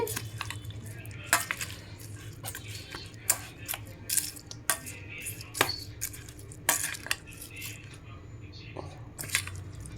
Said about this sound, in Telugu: తాలింపు వేసుకొని ఇలా తిప్పేసుకోవాలి, కలిపేసుకోవాలండి.